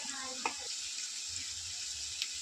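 Sliced onions roast with rock salt in a pan, a steady soft sizzle under a quiet stir or clink.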